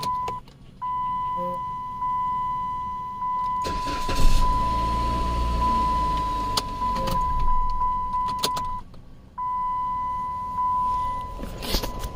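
A 2007 Chrysler Sebring with a 2.4 L engine and a transmission solenoid pack fault cranks, starts and settles into a steady idle, accompanied by a constant electronic beep tone and several short clicks.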